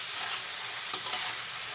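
Black pepper beef stir-frying in a pan, a brief dense hiss of sizzling oil, loud and close with an even texture.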